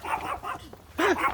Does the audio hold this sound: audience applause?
no